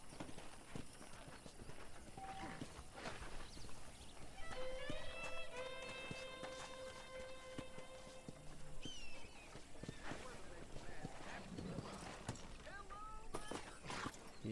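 Horse hooves clip-clop steadily in Red Dead Redemption as the horse is brought up to a house to be hitched, a rhythmic run of close hoof strikes heard under music and people talking.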